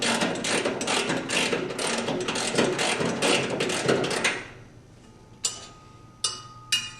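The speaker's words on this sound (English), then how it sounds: "Unscrew the left-hand thread screw halfway." A ratchet wrench clicks rapidly and steadily for about four seconds while unscrewing a left-hand thread pulley screw on a front-load washer, then a few sharp metallic knocks follow, close and clear with a low hum underneath.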